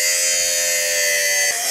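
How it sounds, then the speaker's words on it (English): A battery-powered fabric shaver lint remover runs with a steady, loud electric whir that holds even throughout, with a slight dip in pitch near the end as it touches fabric. "So this side I will use the fabric shaver on"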